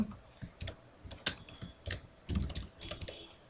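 Someone types Python code on a computer keyboard in quick, uneven runs of close, crisp keystrokes with short pauses between bursts, and no talking over it.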